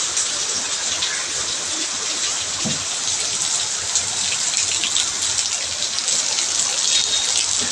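Heavy rain pours down steadily, a dense, even hiss of drops hitting surfaces all around with no letup.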